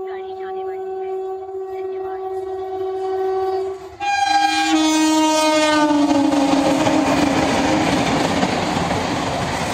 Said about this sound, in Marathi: आता या रेल्वे स्टेशनवर सुपरफास्ट गाडी येऊ राहिली